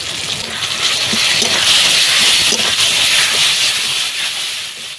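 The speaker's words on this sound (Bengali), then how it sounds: "এবারে দিয়ে দিচ্ছি রসুন বাটা, আদা বাটা, জিরে বাটা" Garlic, ginger and cumin paste hitting a hot pan after tomatoes, giving a loud, continuous steamy hiss that swells and eases over several seconds, with no voices.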